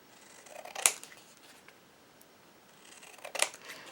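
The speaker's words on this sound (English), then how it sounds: "I'm going to cut this one here a bit more." Scissors trim paper for DIY wall or door art in a quiet room, with two crisp snips separated by soft paper rustling.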